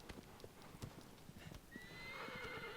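A horse in the video game Shadow of the Colossus, with steady clip-clopping hoof beats that are then joined by a loud, drawn-out neigh near the end.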